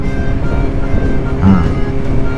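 A motorcycle engine held in second gear at about 4,000 rpm drones steadily and loudly on a winter road, with its constant rumble and wind roar layered together and no speech.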